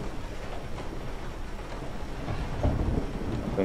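Steady rain falling in Resident Evil 7 with a low rolling rumble of thunder building toward the end, dense and continuous, no voices.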